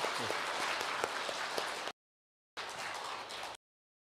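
A congregation applauds at a church service, broad continuous clapping filling the room, broken by a short silent gap before it resumes briefly.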